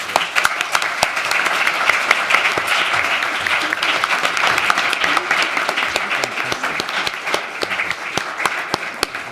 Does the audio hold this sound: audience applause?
yes